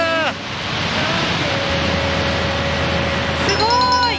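Victoria Falls on the Zimbabwe side roars as a loud, steady broadband wash of falling water and spray, continuous throughout, with excited voices exclaiming briefly at the start and end.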